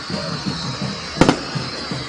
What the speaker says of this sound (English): Now you got fireworks you can see.